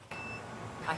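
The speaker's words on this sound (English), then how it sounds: "So that's the sound of the inverter switching over to electric." Solar power inverter emitting a short electronic beep as it switches from solar to grid electricity, a thin steady tone near the start and another brief chirp near the end, over a faint background hum.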